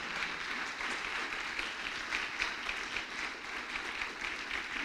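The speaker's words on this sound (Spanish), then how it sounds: "Dale un fuerte aplauso al Señor con todo tu corazón" Congregation applause in a church service, a dense, even roar of many hands clapping that stays loud and steady throughout, with no voices on top.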